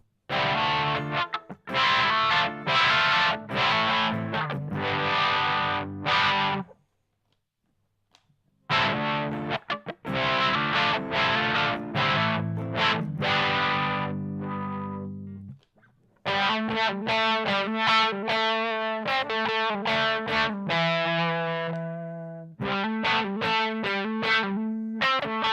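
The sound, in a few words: Dunlop 535Q wah pedal on distorted electric guitar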